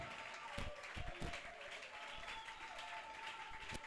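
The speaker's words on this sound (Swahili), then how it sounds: "fais-lui des acclamations à la taille d'un Dieu" A church congregation clapping, faint and distant, with scattered hand claps sounding over a quiet room tone and faint tonal background.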